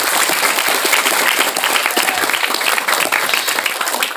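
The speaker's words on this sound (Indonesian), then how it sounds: "Darul Huda, tepuk tangan untuk kita semuanya." An audience at a motivational seminar for students and teachers at an Islamic boarding school claps loudly and steadily, dense applause filling the hall throughout.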